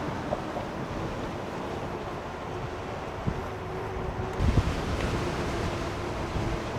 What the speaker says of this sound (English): Going up against a lot of strong wind right now for headwind.